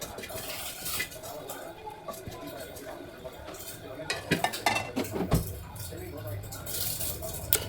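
Cooked rice is tipped into a pot over masala for Malabar chicken biryani. Utensils clink and scrape against the pot in irregular bursts as it is spread, with a faint simmer underneath.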